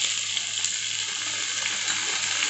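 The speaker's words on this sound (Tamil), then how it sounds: "இப்போ வெங்காயம் நல்லா வறுத்துருச்சு. இந்த ஸ்டேஜில் தக்காளி சேர்த்துக்கலாம்." Onions fry in a pan for chicken dum biryani, giving a steady, close sizzle with faint stirring and no voices over it.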